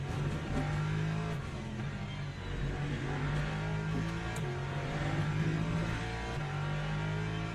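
Race car engine in the sim racing game Le Mans Ultimate, droning loudly and steadily as it revs and shifts pitch through the whole stretch, with no talk over it.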